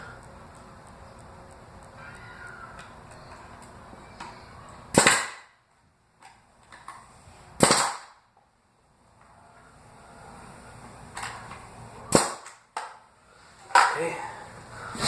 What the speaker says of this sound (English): I am using a nail gun with an air compressor